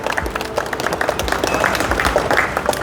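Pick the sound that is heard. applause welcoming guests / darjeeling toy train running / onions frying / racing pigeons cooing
applause welcoming guests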